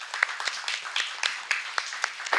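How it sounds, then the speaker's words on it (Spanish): Scattered clapping from a lecture audience welcoming a speaker at a talk on Beethoven's Ninth Symphony, a modest crowd with uneven, individually distinct claps, fairly close and without talk. "Le damos un fuerte aplauso"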